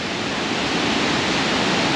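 Victoria Falls in Zimbabwe thunders as a steady, dense roar of falling water, broadband and unbroken, heard up close and loud with no voices over it.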